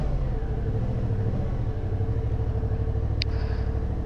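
A 2023 Suzuki V-Strom 650 motorcycle creeps along at very low speed, its engine giving a steady, low idle-like rumble throughout, with a brief faint high chirp near the end.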